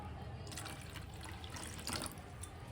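Water trickles and splashes steadily into a handmade clay pot during a Kajari Teej puja, a soft, close, continuous pour with light drips and no talking over it.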